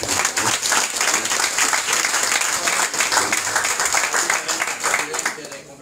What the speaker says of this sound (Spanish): Es un aplauso.